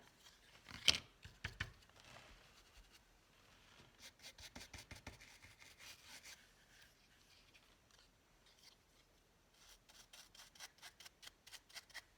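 Finnabair Art Alchemy wax being rubbed over a textured craft tag, heard as repeated quick scratchy strokes in rhythmic bursts, close and faint, with a few sharper scrapes at the start.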